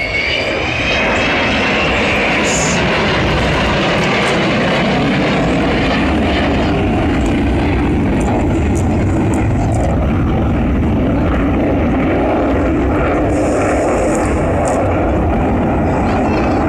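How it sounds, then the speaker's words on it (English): A 55-year-old restored Avro Vulcan XH558 bomber flying at the Throckmorton airshow, a loud continuous engine roar that swells and shifts as it passes, with faint crowd voices beneath. "keeping this 55-year-old aeroplane flying"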